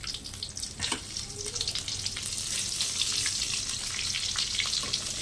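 Cloves and curry leaves frying in oil in a pan for a Tamil egg curry, a loud close sizzle that swells into a steady crackle, with a few stirring scrapes early on.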